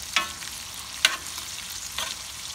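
Steaks frying with garlic and butter on a Nexgrill give a soft, steady sizzle, with three brief scraping stirs spaced about a second apart and no talking.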